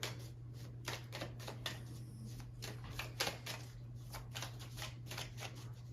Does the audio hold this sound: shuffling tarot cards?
yes